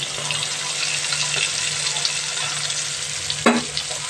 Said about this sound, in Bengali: মাছগুলো ভেজে নেবো ট্যাংরা মাছটা